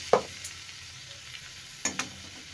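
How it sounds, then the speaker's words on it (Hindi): Onion paste frying in melted butter in a kadai for paneer makhani, a soft, low sizzle broken by a few brief scrapes and taps of stirring. "एबे बाटिके रखी पियाज को पकई दउछे"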